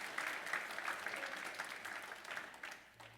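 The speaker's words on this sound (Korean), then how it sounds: "우리 하나님께 감사와 영광의 박수 올려드리도록 하겠습니다." A church congregation applauds steadily through a worship service, a fairly soft, even clapping from a mid-sized crowd with a faint low hum underneath and the clapping tapering toward the end.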